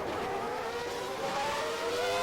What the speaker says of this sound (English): as we're going to hear the